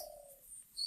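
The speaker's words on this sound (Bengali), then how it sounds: "সুন্দর ঘুঘু পাখি ডাকতেছে।" A single soft, low cooing note from a dove in a lychee tree holds for about half a second, followed by faint higher chirps from other birds. There is no speech.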